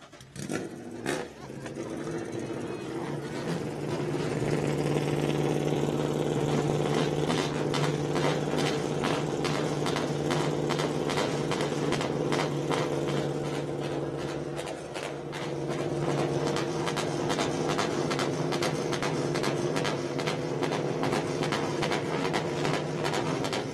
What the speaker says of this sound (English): drivers, start your Mazda engines!